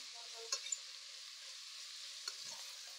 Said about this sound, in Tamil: இந்த வெங்காயம் நல்லா வதங்கட்டும். நல்ல கோல்டன் ப்ரௌன் ஆகணும்.